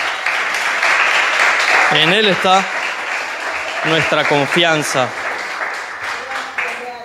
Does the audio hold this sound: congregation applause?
yes